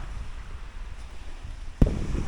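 Low, blustery island wind rumbles across the microphone, with a sharp gust-like thump near the end followed by louder buffeting.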